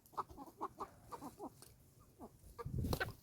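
Roosters and hens squabbling, with a series of short, close clucks and squawks in uneven bursts that swell into a louder, denser flurry near the end.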